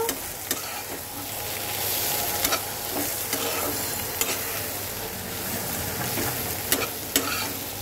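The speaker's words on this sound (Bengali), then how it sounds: "হলুদটা দেওয়ার পর একটু মিক্স করে দেব।" Water lily (shapla) fry being stirred with turmeric in a pan, steady sizzling with repeated sharp scrapes and clinks of the spatula against the pan.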